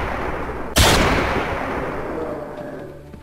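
A single loud, sharp gunshot in a Western-themed video game, a sudden close blast that decays into a long fading rumble with no talk.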